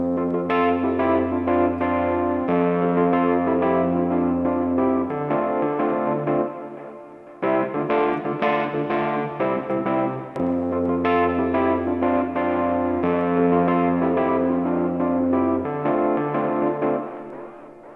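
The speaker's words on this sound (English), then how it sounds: "I can just turn this up to get some wobulated effects on my delay tails" Sustained electric guitar chords ring out through a ping pong delay with modulation, wobbling echoes trailing after each strum, a short pause midway before the playing resumes.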